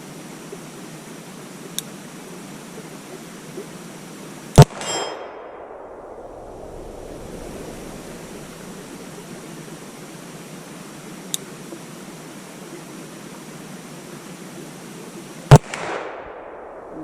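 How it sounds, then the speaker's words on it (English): Four sharp metallic clangs from Smith and Wesson 686 revolver shots striking a steel target, two of them loud and close with decaying ring, two fainter, spread irregularly over steady background hiss with no talk. "7 shots, so I'm going to shoot in the center target right in front of me, and if everything goes well, we'll actually be on steel."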